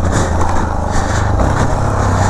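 A Yamaha XT660 motorcycle rides down a set of outdoor stairs, its engine a loud, steady low drone close by, with a rapid pulsing rhythm from the bumps.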